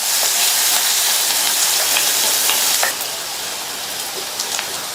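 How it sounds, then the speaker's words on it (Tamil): Three large crushed garlic cloves sizzle in hot oil in a pan for a chayote dish, a dense, close, continuous hiss that eases slightly partway through, with faint scraping ticks. "அடுத்து இதில் 3 பெரிய சைஸ் பூண்டை 1-2 இடித்து சேர்த்து வதக்கிக்கங்க"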